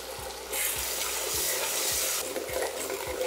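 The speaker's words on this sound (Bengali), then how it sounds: "আর তারপরে এই আদা রসুন বাটাটাকে আপনাদের ততক্ষণ কুক করে নিতে হবে যতক্ষণ এর কাঁচা গন্ধটা চলে যাচ্ছে।" Ginger garlic paste frying with browned onions in a pan for rajma, a dense close sizzle that swells after half a second, with regular stirring knocks of a spoon against the pan.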